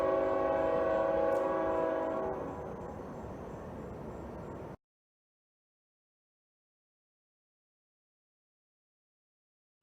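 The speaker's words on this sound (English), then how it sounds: "Train in this video again." A train rolls past outdoors on a winter night, its horn blaring loudly with sustained tones before the noise fades to a lower rumble and then cuts off abruptly midway.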